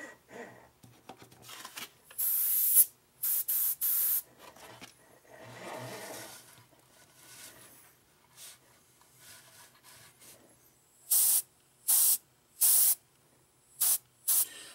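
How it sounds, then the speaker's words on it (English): An airbrush sprays paint over masks on a 1:35 Jagdpanther scale model in short, sharp hissing bursts separated by quiet pauses, with faint handling noises in between. "so we're ready to start spraying."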